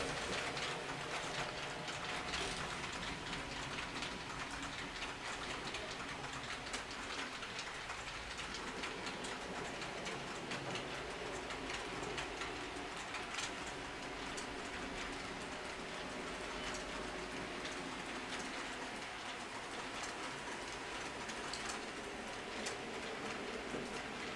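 A model train locomotive runs steadily along its track through a block section with a level crossing, a continuous near mechanical whir and rattle with faint clicking, alone for the whole stretch.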